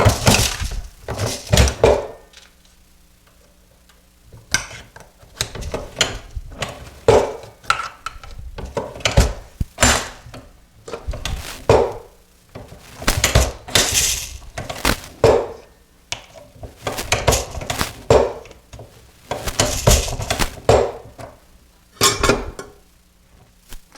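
Shotgun shells being handloaded on a reloading press, giving repeated loud clunks, clacks and metallic clinks in irregular bursts with short pauses between strokes, close and alone.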